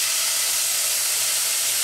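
Fresh tomatoes hit a hot pot of sautéed garlic for a homemade tomato sauce, giving a steady, close hiss of steam and sizzle with no pauses.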